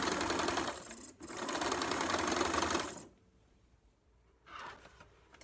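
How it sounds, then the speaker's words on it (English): A sewing machine stitches quilt pieces together in a steady, loud whirring run for about three seconds, pauses, then starts again with a short burst, no voices. "So I'm just going to go ahead and sew these"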